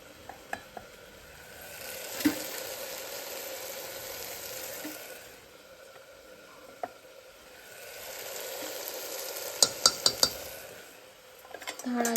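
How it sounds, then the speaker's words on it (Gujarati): Onion, potato and tomato being stirred in a sizzling tempering, a steady fry hiss swelling and fading with spoon scrapes and a quick run of metallic clinks against the pan, close up with faint talk in the background. "વઘારની અંદર બરાબર આપણે મિક્સ કરી લઈએ."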